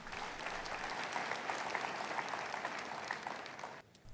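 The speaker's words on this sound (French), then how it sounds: "Applaudissons pour Jésus." A crowd claps steadily and continuously, a dense wash of applause that cuts off abruptly near the end.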